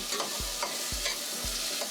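A spoon scrapes around a pot in three regular strokes while basmati rice with a bay leaf, spice and green seasoning sizzles and fries steadily underneath.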